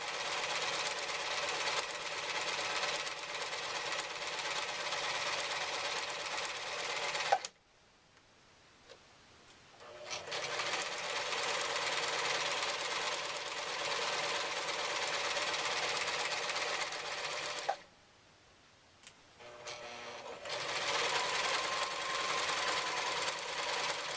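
A sewing machine stitches a simple fabric project bag in a steady, rapid run of needle strokes. The machine stops twice for a couple of seconds each time, when the bag is turned with the needle down, and then resumes.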